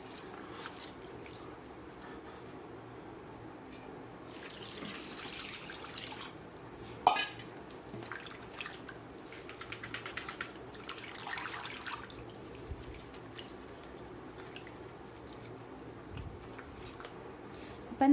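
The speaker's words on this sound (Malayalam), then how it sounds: "ഇത് നന്നായിട്ട് ഒരു 5-10 തവണ നന്നായിട്ട് കഴുകി കൊടുക്കണം" Aloe vera gel being rinsed in a sieve submerged in water, soft continuous sloshing and swishing with light drips and occasional faint clinks, close and quiet, in irregular bursts.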